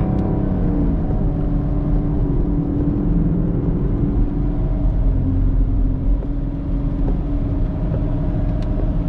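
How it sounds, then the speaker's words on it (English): A 2021 Camaro SS runs with a steady, loud low exhaust rumble through a downshift, a continuous deep drone with faint crackle and gurgle in the background and no voices. "downshift gurgle in here. Listen to that."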